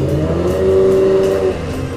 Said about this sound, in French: Celle-ci a une ligne inox, hein, c'est pour ça qu'elle fait un bruit un peu spécial